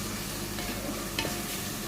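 Garlic browning in a hot pan gives a short, steady, close sizzle with one brief stirring scrape.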